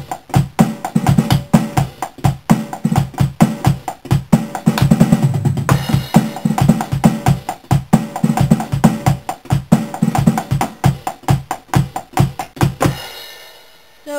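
Rock drum kit in a cover, with open hi-hat hits landing together with the kick pedal. Steady, loud, tightly repeated strikes run for about thirteen seconds, then stop abruptly with a short ringing tail.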